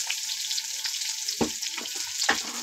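Chopped onion, garlic and green chili sizzle steadily in hot oil spiced with cardamom and garam masala, with a bright, continuous crackle and a few louder spits and stirring knocks up close.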